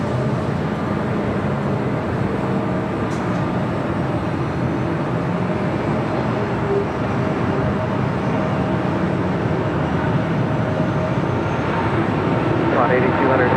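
A heavy Boeing 777 lands on runway 25 left at LAX, a broad continuous roar of jet engines and rushing air that swells slightly toward the end, heard at a distance with faint radio chatter.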